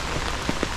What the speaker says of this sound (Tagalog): Hindi maganda kasi panay ang ulan.